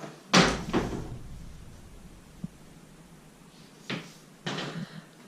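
Wardrobe door in a single bedroom of a shared apartment opening and closing, a sharp wooden knock and bump near the start, then two softer thuds later, close by in a quiet room.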